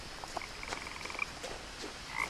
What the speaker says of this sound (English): I hear that frog.